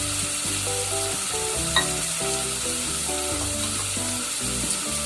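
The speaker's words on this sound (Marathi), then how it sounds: "त्यात आपण आलं आणि लसूणची पेस्ट टाकते।" Ginger-garlic paste frying in a pan for paneer matar pulao, a steady close sizzle with an occasional stirring clink, heard under light background music.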